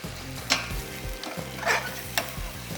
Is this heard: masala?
yes